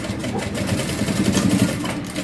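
A sewing machine runs at stitch length 4, beginning a seam with a backstitch on a crossbody bag. It gives a steady, loud, close whirring hum with no pauses and no voices.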